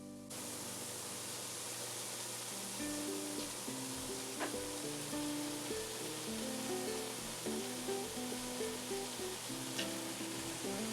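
Andouille sausage sizzles in a gumbo pot, a steady soft frying hiss with faint pops and crackles, quiet and continuous beneath a low background hum.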